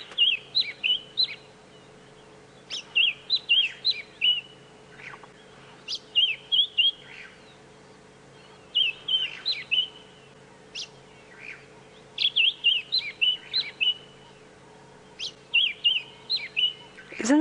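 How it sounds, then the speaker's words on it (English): A white-browed scrub robin sings repeated short bursts of sweet, high chirping phrases, clear and fairly close, spaced by brief pauses over a faint steady hum in the African bush at dawn. "It is a white-browed scrub robin, but that's all I'm going to say because I want you to listen to its beautiful call."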